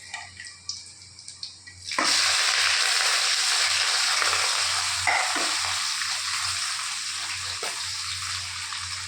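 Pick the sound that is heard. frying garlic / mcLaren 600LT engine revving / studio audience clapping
frying garlic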